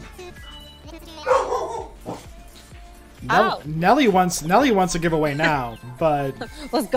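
A small, feisty dog barks in short bursts around a deck with neighboring backyards nearby, fairly close and loud, mixed in among people talking.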